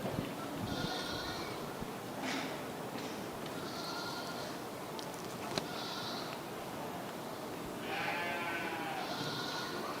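Goats bleating repeatedly in a livestock show ring during a judged class, several clear calls spaced across the clip over a steady crowd and arena murmur.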